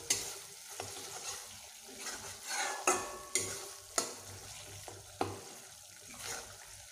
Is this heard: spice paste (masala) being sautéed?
yes